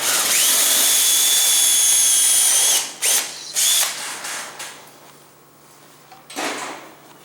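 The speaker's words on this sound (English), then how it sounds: "taking a 7/8 Forstner bit, and we're going to make our own power hole" Power drill boring a hole with a 7/8 Forstner bit, a loud steady high whir for about three seconds that stops, followed by a few short clunks and rattles of handling.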